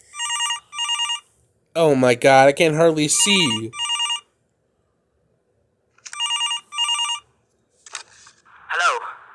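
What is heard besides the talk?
telephone ringing in FNAF fan video game Five Nights At Boscos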